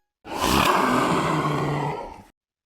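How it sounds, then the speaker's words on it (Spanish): A creature's roar in a zombie horror story, a single sustained, rough bellow lasting about two seconds, loud and full, with no other sound around it. "Fue entonces que un rugido lejano se escuchó"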